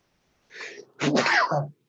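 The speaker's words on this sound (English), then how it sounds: "'Tis the season to sneeze." A single close sneeze: a short breathy intake followed by a sharp, explosive burst, loud and alone against silence.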